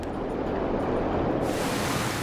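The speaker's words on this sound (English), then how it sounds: "Roaring masses of water shoot through a channel between rocks" Roaring masses of river water rush through a rocky channel in the Alaskan or British Columbian wilderness. The churning roar is loud and continuous, close and broadband, and grows brighter partway through, with no voices.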